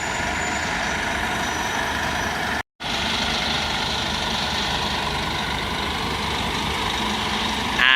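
A bus at Gloucester bus station idles with a loud, steady diesel rumble as it pulls away, close by and continuous apart from one brief cut to silence.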